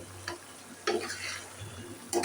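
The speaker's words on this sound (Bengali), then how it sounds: "আমি এটাকে একটু নাড়াচাড়া করে দিচ্ছি।" Stirring a simmering curry of beans, potato and tomato in a pan, a few soft scraping strokes against a low bubbling sizzle, close and fairly quiet with no talk.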